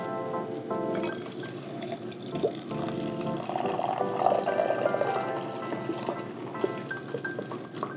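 Cranberry lemonade pours steadily into a glass for several seconds, a continuous splashing gurgle with a few light clinks and a brief rise in the middle.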